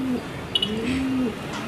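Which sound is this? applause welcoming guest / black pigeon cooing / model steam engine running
black pigeon cooing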